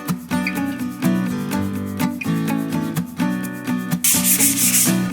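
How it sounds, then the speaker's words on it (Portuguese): A small cut piece of sandpaper is rubbed firmly back and forth across an MDF panel. The strokes are loud, close and rhythmic, with repeated scratchy passes and no voices. "Eu corto um pedaço da lixa aqui e lixo bem o painel"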